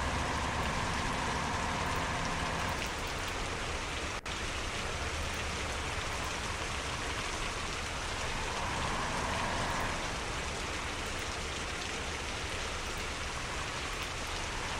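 Steady rain hisses in the Truckers of Europe 3 driving game, a constant even wash of noise with no talk over it, briefly broken by one short click.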